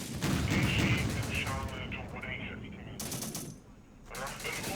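Gunfire in the war strategy game Syrian Warfare comes as rapid bursts of machine-gun and rifle shots with heavy booms, crackling in several volleys under a dense battle din.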